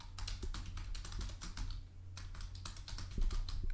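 Steady, close typing on a computer keyboard as a name is entered, with rapid irregular key clicks in short bursts and a brief pause midway, no voices.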